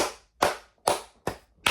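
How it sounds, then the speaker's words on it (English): Four slow, sharp hand claps, evenly spaced about half a second apart, each loud and crisp with a short reverberant tail in a quiet room, like a lone sarcastic round of applause. "Round of applause, everybody."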